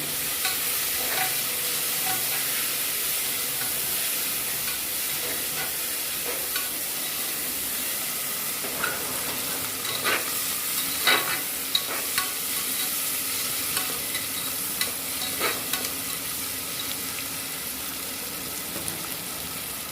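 Onions sauté in a pan for a Tirunelveli-style chicken curry, a steady close sizzle and hiss with repeated scraping stirs of a spoon against the pan, and no voices.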